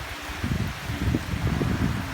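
Strong storm wind roars and buffets steadily outdoors, with a constant rushing hiss and low gusty rumbling throughout.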